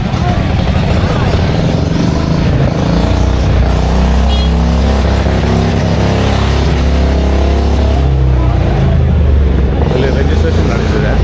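Superbike engines rumble and rev loudly at a bikers' event on a ride from Bengaluru to Chennai for MOTO Carnival 2K25, a continuous roar with people talking over it.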